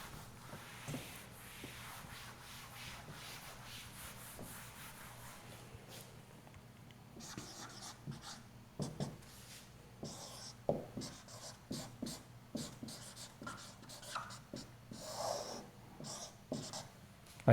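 Chalk or marker scratching on a board during a physics lecture, a quiet series of short, irregular strokes that grow busier and more clustered in the second half, with faint room noise and shuffling.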